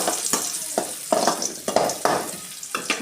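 Raisins frying in ghee for rava kesari: a loud hissing sizzle punctuated by rhythmic scrapes and taps of a ladle stirring in the pan, close by with no talking.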